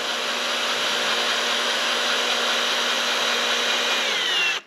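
Drill running slowly as it bores into soft aluminum on a box-store garden trailer, a steady whining hum held evenly and close, then cut off at the end.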